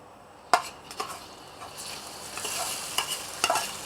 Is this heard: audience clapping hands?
no